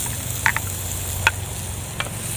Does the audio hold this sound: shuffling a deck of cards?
no